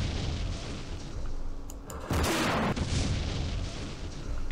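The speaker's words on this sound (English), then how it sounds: "Let's fire at this infantry up here." A weapon opens fire on infantry in Campaign Series Middle East: a short, heavy booming blast, preceded by a couple of faint pops, standing out above steady background noise.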